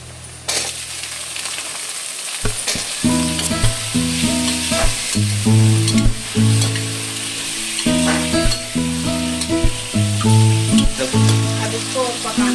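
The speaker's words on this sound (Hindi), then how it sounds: "हल्का प्याज पकने के बाद अब आलू डालेंगे।" Potatoes and green onions frying in a pan, a loud close sizzle with rhythmic scraping and clanking of a spatula stirring the pan throughout.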